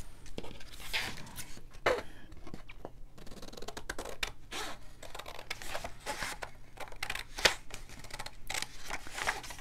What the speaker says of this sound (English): I'm just going to take my scissors and cut around this.